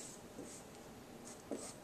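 A pencil shading in part of a hand-drawn fraction circle, a close, steady scratchy scribbling in short back-and-forth strokes with a few brief pauses.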